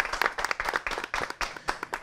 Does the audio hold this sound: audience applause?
yes